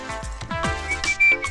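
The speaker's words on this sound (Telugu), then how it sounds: "అలా విజిల్ కూడా వేయకూడదు తల్లి." A person in an exam hall scene from a Telugu action film gives a short, sharp whistle made of a few quick gliding notes, loud and close.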